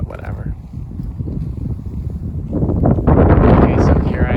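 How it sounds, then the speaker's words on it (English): Strong wind buffets the microphone in a steady low roar, swelling louder and gustier toward the end. "It's windy here too, but whatever."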